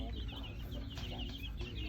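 Chicks at a Rural King farm store in Spring Hill, Florida peep and cluck in short, repeated calls over a steady indoor hum, close and continuous for the short stretch.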